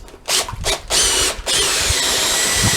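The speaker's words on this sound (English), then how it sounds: "Grab my drill." A power drill whirs in short bursts, stopping and starting, then runs steadily at a low speed with a rough, gritty hiss, mixing concrete with water for weight blocks.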